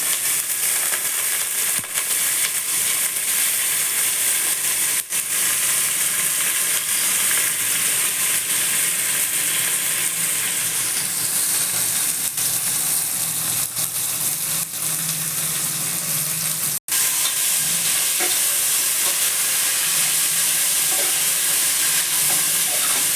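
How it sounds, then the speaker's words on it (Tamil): Onions fry and are stirred in oil in a pot for mushroom biryani, a loud continuous sizzling hiss with occasional clicks of the utensil throughout, no talking. "வெங்காயத்தை போட்டு நல்ல எண்ணெயில் வெங்காயம் வதங்கிடணும்"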